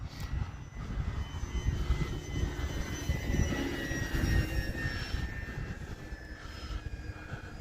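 An E-flite Commander MPD RC plane flies overhead with a steady electric motor whine and airflow rush, moderately distant and consistent throughout with no talking.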